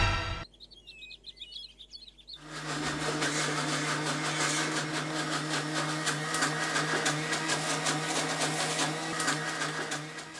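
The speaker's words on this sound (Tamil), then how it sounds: "மிக்ஸி பாட்டு ஓடிக்கிட்டே இருக்கு" A mixer grinder starts up after a quiet moment with faint bird chirps, then runs loud and steady with a constant motor whine and grinding rattle for the rest of the clip.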